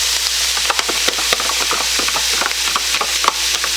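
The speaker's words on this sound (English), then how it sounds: "First I'm going to add the onions." Onions are tipped into goulash meat frying in grease, giving a steady crackling sizzle with irregular stirring clatters throughout, close and fairly loud.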